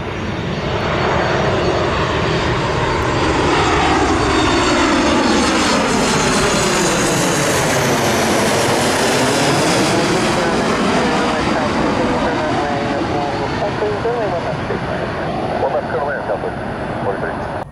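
A United Boeing 737 Max 9 airliner takes off, its loud, steady jet engine roar filling the scene with a swelling then fading pitch sweep as it passes, heard near and continuous throughout.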